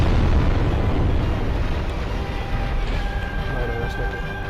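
Spell explosions cast by an enemy in Dark Souls rumble as a dense, continuous roar, loud and broad, with faint tonal ringing emerging toward the end.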